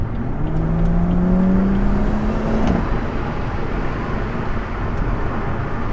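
A BMW M140i with a BM3 Stage 1 tune accelerates from 35 to 70 mph on cold Michelin Pilot Super Sport tyres, a close engine note climbing steadily in pitch through the gears, then dropping into a steady road roar.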